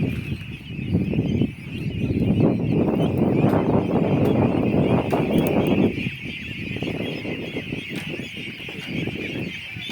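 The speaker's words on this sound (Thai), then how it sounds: "อ๋อเวลาจับเป็ดอยู่ครับ" A large flock of Thai laying ducks being herded through a field quacks in a dense, continuous chorus nearby, with no talking.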